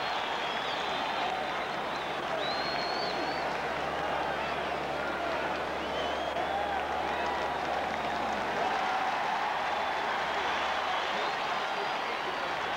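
Dense stadium crowd roar with sustained applause at a 1985 Iowa versus Michigan State college football game, a continuous wash of cheering and clapping, loud and steady throughout with no distinct voices standing out.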